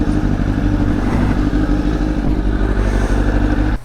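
A Honda CBR1000RR motorcycle cruises on a highway, its engine droning steadily and loudly with heavy wind rumble close to the rider throughout.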